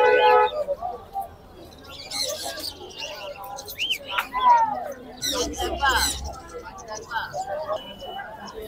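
Myna chicks chirp and call in scattered bursts at an outdoor bird market, with people talking throughout over the noisy background.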